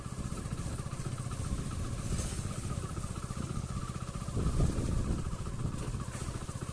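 A motor vehicle engine runs at a steady, close putter while riding, with a slight surge near the end and no speech.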